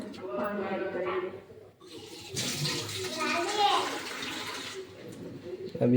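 Water splashes into a cooking pot for a fish curry, a broad steady pouring rush lasting a couple of seconds, with someone talking before and softly during it.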